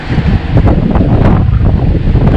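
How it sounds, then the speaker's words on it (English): Strong wind blows through a Welsh forest where timber machines are working, buffeting the microphone with a loud, steady roar and faint rustling throughout. "The wind is blowing here now across from the left to the right"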